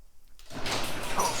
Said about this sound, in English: opening up the garage door